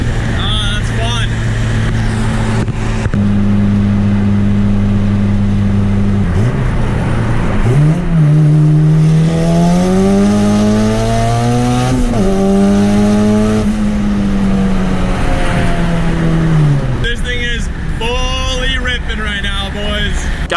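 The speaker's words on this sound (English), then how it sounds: "I'm hitting some part throttle cruising right now" A 500 WHP turbocharged Honda Civic cruising at part throttle on the street, loud in-cabin engine drone rising and falling in pitch as revs change, with someone talking over it.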